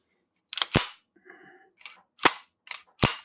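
Auto Ordnance 1911 A1 replica pistol giving crisp, close metallic trigger clicks, about six sharp snaps in pairs with a soft rattle of handling in between, in a quiet room.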